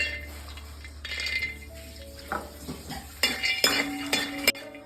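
Almonds stirred in hot ghee: close metallic spoon scrapes and clinks against the pan, coming in bursts over a soft frying sizzle, growing busier toward the end.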